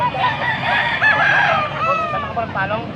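Young roosters (stags) crow at a poultry market, several overlapping cock-a-doodle-doo calls rising and falling amid clucking and a busy crowd murmur, fairly close and loud throughout.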